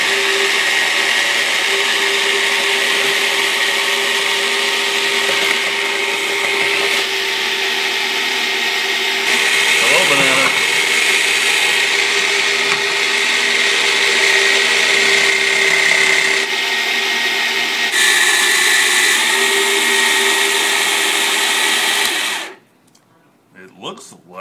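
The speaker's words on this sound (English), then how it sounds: "break these into half and then feed them into the machine" A frozen-banana ice cream maker machine runs continuously with a loud, steady whirring drone and shifting tones as fruit is fed in, then cuts off abruptly near the end.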